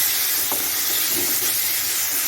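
Momo filling for Tibetan momos is stirred in a pan over a high flame, giving a steady, dense sizzling hiss throughout with a faint scrape of stirring and no voices.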